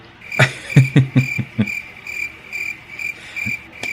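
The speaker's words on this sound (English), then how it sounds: "we'll just insert the crickets right now" Crickets chirp steadily in a high, thin trill, with a few soft low thumps early on and again near the end.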